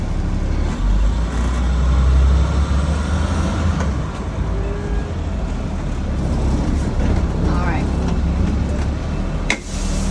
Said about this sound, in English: I'm going to do a service brake test. I'm going to drive 5 miles an hour.